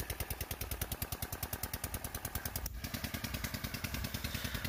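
A single diesel engine drives two irrigation water pumps at once, a fast, even chugging beat that runs steadily and close by, briefly interrupted by a sharp knock midway.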